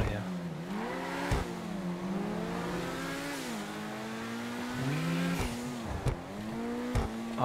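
A car in GTA 5 Online drives hard, its engine revving up and down in repeated rising and falling sweeps with a few sharp knocks or bumps, loud and close throughout.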